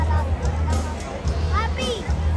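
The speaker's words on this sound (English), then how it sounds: "Look at this crowd." A dense crowd babbles on the Nassau cruise port boardwalk, a steady murmur of many overlapping voices at middle distance, with a few nearer voices standing out now and then.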